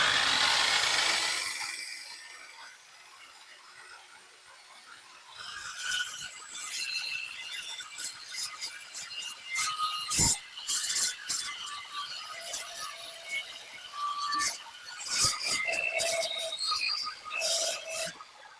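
A WEN 14-inch metal carbide saw cuts 3x3 square steel tubing, giving a steady grinding, rasping cut with scattered sharp clicks and bursts after a short spin-up, heard close and moderately loud.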